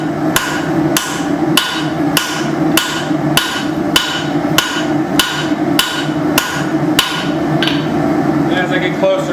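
Spring steel cleaver tang being forged with a hammer on the edge of an anvil: around fourteen evenly spaced, ringing metallic blows, close and loud, in a steady rhythm.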